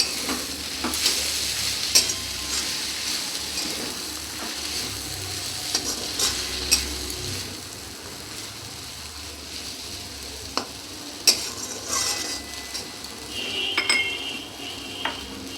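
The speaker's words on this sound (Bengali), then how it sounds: "এগুলোকে ভালো করে মিক্স করে নিই।" A spatula keeps stirring a sizzling filling in a pan with black pepper, coriander and cumin powder. The steady frying hiss carries scattered metallic scrapes and clinks close by.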